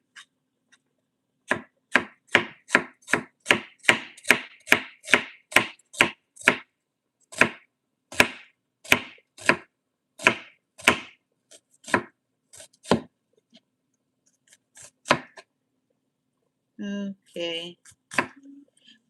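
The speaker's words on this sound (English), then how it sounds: "So you can cut your onions whichever way you like." A knife chops onions on a cutting board for a Ghanaian okra stew, with brisk, evenly spaced chops in a long run, then sparser cuts and a short clattering burst near the end; a brief spoken word interrupts once.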